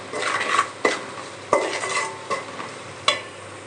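A spiced egg semiya mixture with ginger-garlic paste, chilli powder and salt stirred in a pan, with a spoon clinking and scraping against the metal in a handful of sharp strokes over a faint sizzle, close by.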